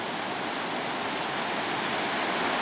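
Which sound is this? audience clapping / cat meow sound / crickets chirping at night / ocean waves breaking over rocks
ocean waves breaking over rocks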